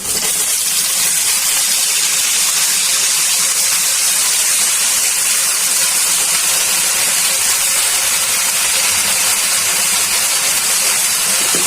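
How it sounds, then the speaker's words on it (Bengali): Water spinach greens hit a hot pan of fried onions with salt, producing a loud, continuous steamy hiss and crackle that holds steady without a break. "কলমি শাকগুলো দিয়ে দিচ্ছি।"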